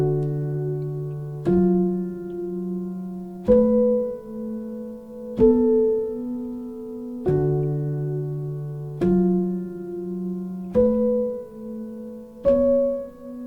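A sped-up piano bass line with treble notes above it, a few sustained chords struck about every two seconds, each ringing and decaying before the next, played alone with no talk.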